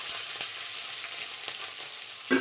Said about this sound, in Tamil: எல்லாம் போட்டு கொஞ்சம் நல்லா வதக்கிடலாம்